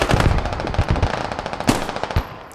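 Rapid automatic gunfire from infantry combat in the video game Squad, a dense close burst of shots with a few louder cracks standing out, no voices.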